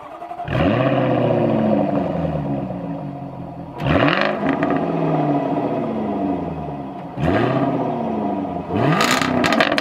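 A Jaguar F-Type sports car engine revs in three loud, close bursts. Each climbs sharply and then settles, with no voices over it.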